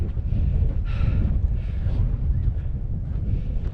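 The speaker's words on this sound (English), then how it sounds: "Very windy." Strong wind buffets a microphone outdoors on a warm February day, a loud, continuous low rumble that swells in gusts.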